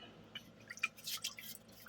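New potatoes being washed by hand in water, with soft, irregular splashes and drips close by at low volume and no talking.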